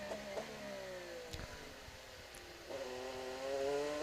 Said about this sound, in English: You hear him backing off the throttle, coasting into the corners, saving his brakes